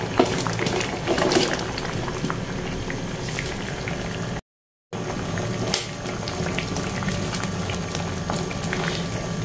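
Pot of mung bean soup with dried anchovies and eggplant at a steady rolling boil, dense bubbling and popping up close, continuous apart from a brief gap.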